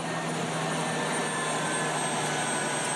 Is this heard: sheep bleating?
no